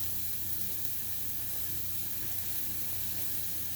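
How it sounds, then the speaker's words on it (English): Mushrooms frying in coconut oil in a pan give a steady, close, low-level sizzle and hiss that runs unbroken throughout, with no voices. "They're making some sizzling noises."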